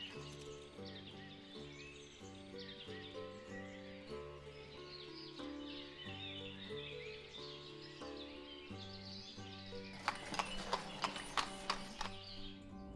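Horse hooves clip-clopping in the city-builder video game Ostriv, a quick burst of rhythmic hoof clops near the end over a steady musical soundtrack, with faint birdsong, no talk.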